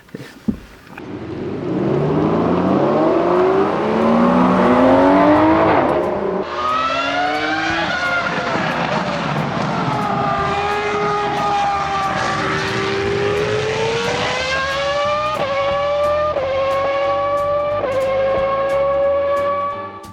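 A car engine turns over and starts in humid weather in Fife, then keeps running with a smooth, loud tone whose pitch rises and falls as it revs and settles. No talk is heard.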